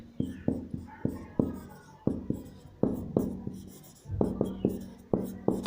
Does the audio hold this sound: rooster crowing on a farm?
no